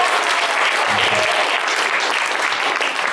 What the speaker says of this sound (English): Give a round of applause for Jess.